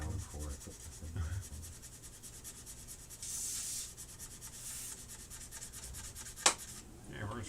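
Quiet rubbing strokes of sandpaper on a scale model run in short bursts, faint and close, broken by a brief sharp click and a few low murmurs.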